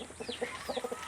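Chickens, including young day-old birds kept for sale, cluck in a quick series of short near notes with a couple of higher rising calls, fairly soft and without talk.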